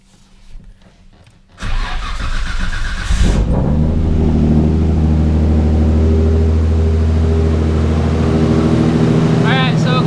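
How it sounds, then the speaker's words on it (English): An R33 Nissan Skyline cranks briefly and fires up first time, then settles into a loud, steady idle close by, with turbo hiss and a faint rattle near the end. "let's go ahead and fire up the car"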